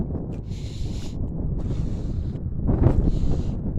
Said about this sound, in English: I do apologize about the wind.